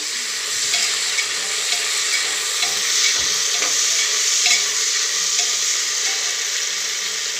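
Finely diced, peeled and washed potato sizzles and crackles steadily in a hot pan while being stir-fried for masala rice, with occasional scrapes and taps of the spatula against the pan.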